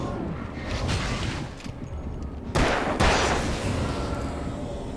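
Enemy gunfire in the video game Alan Wake Remastered, a dense rumbling barrage of shots with louder booming blasts partway through, continuous and close throughout.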